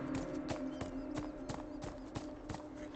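Rhythmic clip-clop of horse hooves from the video game Beyond Two Souls, a steady walking gait of evenly spaced hoof strikes, close and moderately loud with no talk.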